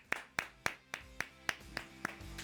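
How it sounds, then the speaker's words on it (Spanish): A single person claps seven slow, sharp, evenly spaced times during a construction class on assembling and installing prefabricated timber systems. The claps sound close and crisp over a quiet room. "Un aplauso para Alfredo Correa"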